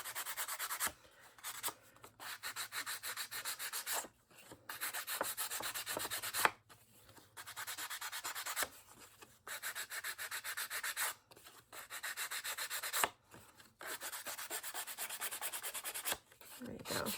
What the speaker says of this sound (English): sand and distress along these edges